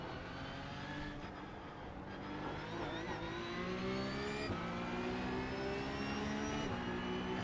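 Porsche 911 Cup car (992.2) racing at Suzuka in a video game, its engine droning steadily and loud, with rising harmonic pitch sweeps as it revs through gears and a couple of sharp shift breaks, continuous throughout without talk.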